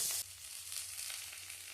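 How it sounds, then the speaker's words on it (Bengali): Green and red capsicum with green and ripe red chillies lightly frying in a pan, a soft steady sizzle with a brief brighter burst at the start, alone without voices. "এবার সবগুলোকেই আমি হালকা করে একটুখানি ভেজে নেব"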